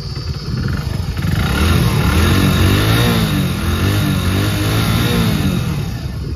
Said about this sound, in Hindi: इस बाइक को दोस्तों सबसे पहले हम स्टार्ट करके आपको दिखाते हैं इसका आवाज